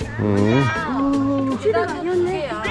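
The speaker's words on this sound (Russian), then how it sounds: "Здесь огромный толстый кот." A cat meows loudly and up close in long, drawn-out wails, one after another across the whole stretch.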